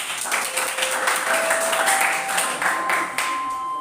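Group applause from a class of students for group 4 in a classroom lesson, a steady patter of many hands clapping at moderate loudness, with a faint tonal whistle running underneath.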